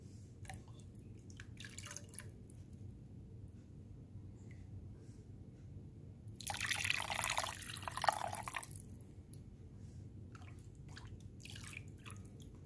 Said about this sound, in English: I'm going to ladle the soup and put it directly into the sieved area